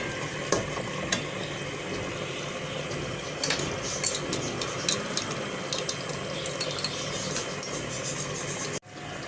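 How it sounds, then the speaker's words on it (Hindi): Meat frying with ginger-garlic paste in a pot for biryani, a dense continuous sizzle with scattered spoon clinks against the metal, close and steady, ending with a brief sharp knock. "अब हम इसमें डालेंगे 2 टेबल स्पून लहसुन अदरक का पेस्ट भर के और इसे अच्छी तरह से भून लेंगे"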